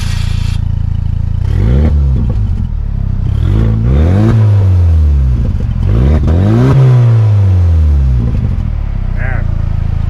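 A Saturn Sky with its active exhaust valve open, revving hard several times in a row, each loud, deep rise and fall of engine note close by, with brief pauses between blips.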